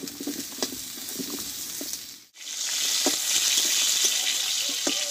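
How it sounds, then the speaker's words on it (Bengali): Pointed gourd (potol) sautéing in a pan, a steady broadband sizzle with scattered stirring clinks; the sizzle briefly drops out mid-way, then returns louder and brighter. "পটলটা একটু টাইম নিয়ে কষে নেব ভালোভাবে"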